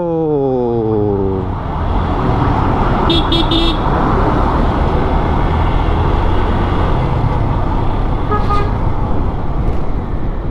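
Riding in the back of an open truck through city traffic: a steady, loud roar of road and wind noise fills the whole stretch, with short horn toots from passing vehicles near the middle and again toward the end.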